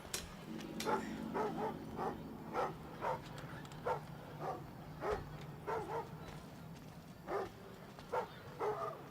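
Dogs in a video game bark again and again in short, evenly spaced yaps over a steady low hum, sounding somewhat distant.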